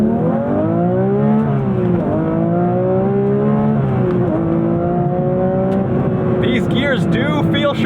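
A Porsche 992.2 GT3 Touring pulls hard through its gears, its engine note climbing loud and close with quick drops at each upshift, running steadily throughout.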